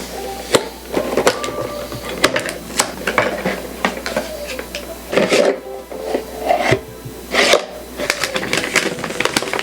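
Cardboard AeroPress Color box being opened by its pull tab, giving repeated close tearing, scraping and rustling sounds with sharp clicks through the whole stretch and no talk.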